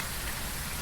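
Rain falling in the Phasmophobia ghost-hunting game, a soft steady hiss of drops, faint and continuous with no voices.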